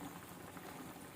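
Sardine curry with roasted coconut simmering in a pot, a steady close bubbling boil that continues throughout with no voices.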